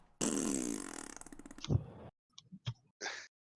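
A mouth-made fart imitation from a tabletop roleplaying game session: a long, buzzy, sputtering raspberry lasting nearly two seconds, followed by a few short, scattered vocal pops and puffs, close and loud.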